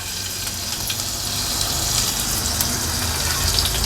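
Ginger-garlic paste sizzles loudly in hot oil with bay leaf, cloves and cinnamon for a mutton paya curry, a dense, steady, close rushing hiss without voices.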